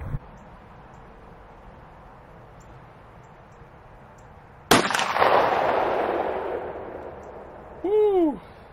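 Winchester 1oz 12-gauge shotgun slug fired into ballistics gel, a single loud, sharp outdoor blast about midway that rolls off into a long echoing tail, followed by a brief whooping voice near the end.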